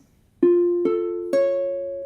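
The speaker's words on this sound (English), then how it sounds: "So a root position augmented chord sounds like this." A root position augmented chord builds note by note on a clear, pitched instrument, three tones entering one after another and ringing together, close and clean.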